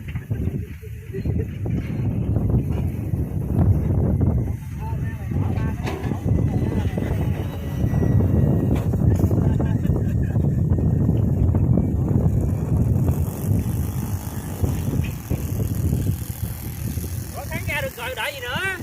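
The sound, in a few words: wind blowing while flying an RC B-17 plane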